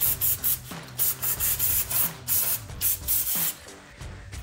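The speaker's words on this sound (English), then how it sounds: "We're about to spray some brake cleaner liberally again, all around the pad" Brake cleaner sprays in repeated short aerosol bursts around the front brake pads of a RAM 2500 truck, roughly two per second, loud and close with brief pauses between.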